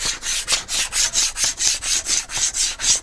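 A plastic ruler scrapes dried glue off the surface of a craft cutting mat in steady, rhythmic back-and-forth strokes, close and fairly loud, about a dozen passes in three seconds with no talking.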